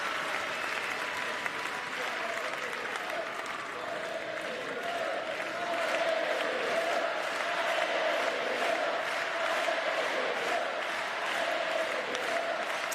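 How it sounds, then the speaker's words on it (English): At a Paralympic wheelchair tennis match in Paris, a crowd chants "Allez les Bleus" in support of a French pair, a rhythmic, sustained roar of many voices with pulsing claps, fairly distant. "Allez les Bleus, chant the crowd"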